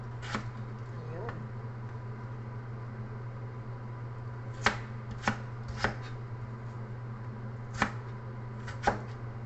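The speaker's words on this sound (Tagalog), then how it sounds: "Cut lang ng small, guys, ang ating patatas." Potatoes being cut into small pieces with a knife on a board, with about eight separate sharp chops spaced irregularly over a constant low electrical hum.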